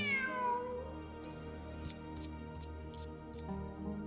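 A cat meows in the Genshin Impact video game, a series of short, clear calls that drift over a steady low musical background, with a few brief chimes scattered between them.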